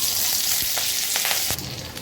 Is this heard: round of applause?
no